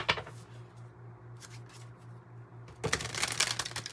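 Tarot cards riffle-shuffled by hand close by in a quiet room, with a short burst of shuffling at the start, a brief flutter midway, then a longer, louder stretch of crisp papery riffling at the end.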